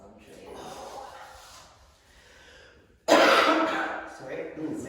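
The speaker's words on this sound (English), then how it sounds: "Sorry, same cough." A sudden loud cough bursts out near the mic about three seconds in, after a stretch of quieter background sound and murmuring.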